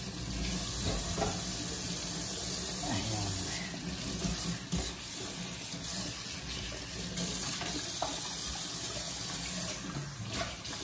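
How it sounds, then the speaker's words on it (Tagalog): Running tap water splashes steadily into a kitchen sink as it is washed, a continuous close rush with faint clatter and some speech underneath. "Hugasan ka agad guys ang lababo"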